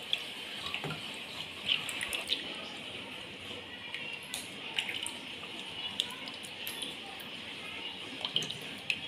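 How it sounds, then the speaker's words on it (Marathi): Soft, steamed white bitter gourd (karela) is squeezed by hand, giving faint wet squishes and drips of water in a quiet kitchen, with soft intermittent splashes and occasional clicks. "हे आता असे छान पिळून घ्यायचे कारले"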